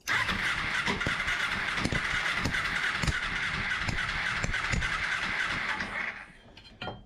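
A 2007 Kawasaki Ninja motorcycle that sat unused for five years, with dirty carburetors, runs roughly, its engine a loud, harsh, sputtering drone with irregular pops, then cutting out near the end.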